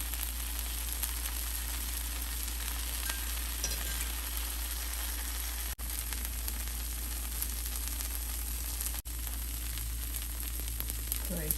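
Tomato dosa fries on a hot pan with a steady, soft, even sizzle. The hiss continues close up with little change in level.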